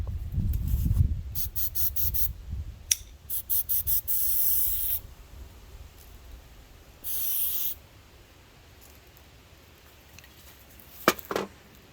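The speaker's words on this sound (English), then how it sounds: "I think I'm gonna go through this whole can of carb cleaner by the time we get done." Carb cleaner sprays from an aerosol can onto a disassembled Honda Rancher ATV carburetor in several sharp hissing bursts of varying length, some brief and clipped, others sustained for a second or so, separated by quiet gaps.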